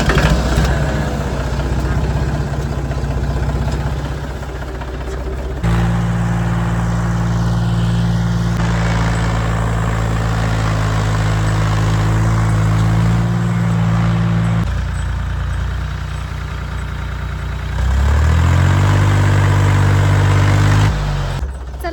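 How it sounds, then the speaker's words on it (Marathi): Farm tractor engine cranked and started, then a heavy diesel idle throbbing steadily up close, revved briefly again near the end, with a voice talking over it. "तुम्हाला पण दाखवते आम्ही ट्रॅक्टर कसं चालू करतो."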